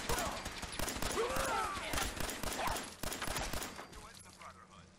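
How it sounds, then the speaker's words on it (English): Gunfire in Fallout 4 crackles as a dense, rapid fusillade of shots with a firefight clatter that thins toward the end. "Oh, we're just shooting people."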